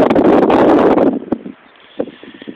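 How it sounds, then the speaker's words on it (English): Wind gusts loudly against the microphone outdoors at a cemetery at sunset, with a strong roaring burst for about a second that then drops to faint rustling with a few brief knocks. "The wind, as usual."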